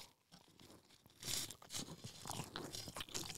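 A Five Guys burger is chewed loudly right at the mouth, with wet crunching bites and smacking mastication that repeat irregularly and stand alone without talk.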